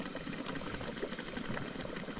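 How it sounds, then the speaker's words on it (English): Steam hisses and mud bubbles softly at a mud pot in the Mud Volcano area of a geyser basin, a steady, faint wash of hiss with no talk. "Got a little bit of mud pot action going on over there."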